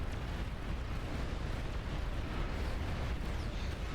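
Commander unit firing a D gun in a strategy video game, a heavy booming blast within a constant dense low rumble of battle explosions and artillery fire, loud and continuous.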